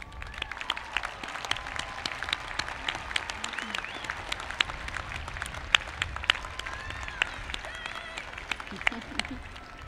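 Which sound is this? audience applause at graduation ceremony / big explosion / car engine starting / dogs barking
audience applause at graduation ceremony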